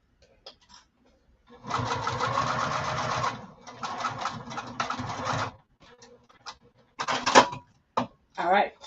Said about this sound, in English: now we've sewn that side, and that was the other long side